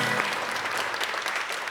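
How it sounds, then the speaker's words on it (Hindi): Studio audience applauding on a Pakistani talk show, a steady wash of many hands clapping at moderate level throughout, with no voices over it. "इसमें तालियां बजनी चाहिए।"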